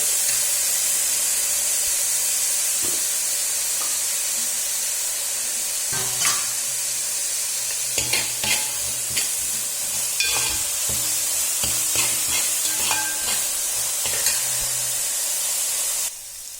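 Crushed ginger, garlic and onions sizzle steadily in a pan for crab curry, with repeated scraping and clinking of a spoon as they are stirred.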